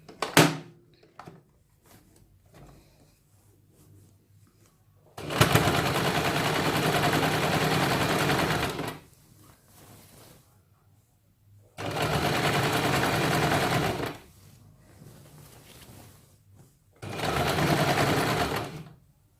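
A sewing machine stitches a kurta seam in three loud, steady bursts of rapid mechanical whirring, separated by quiet pauses with faint handling clicks.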